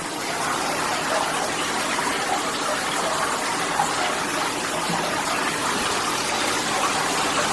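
A shower head runs in a steady, full-bodied spray, the water hissing and gushing without pause throughout. It sounds close and fairly loud, with no talking.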